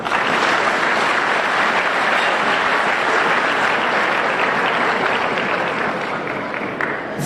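Sustained applause from a crowd at an anniversary event for a Greek Australian community organisation, honouring a priest, steady and full for several seconds before tapering slightly at the end.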